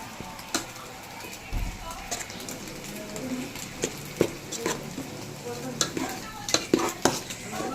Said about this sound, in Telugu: ఇప్పుడు నెక్స్ట్ రైస్ వేస్తున్నారు